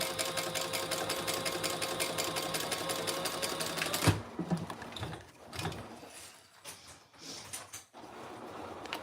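A sewing machine runs a row of stitching 1/8 inch from the previous one, a steady fast mechanical whir for about four seconds before it stops, followed by quieter handling clicks and rustles.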